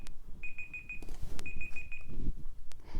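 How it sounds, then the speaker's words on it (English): A timer alarm goes off in two bursts of rapid repeated electronic beeps, moderately loud, with clicks and room noise between them. "a timer is literally going off. I mean, I set a timer"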